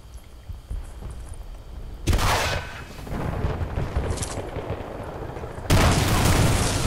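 Gunfire and explosions crack through a Battlefield Bad Company 2 match, with two sudden loud bursts of broadband noise cutting in over a quieter rumbling battle background, one mid-clip and another near the end.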